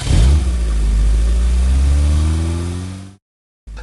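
The small family car in a Peppa Pig cartoon revs loudly and close, its engine pitch climbing as it pulls away, then cuts off abruptly into a moment of silence before another sound starts.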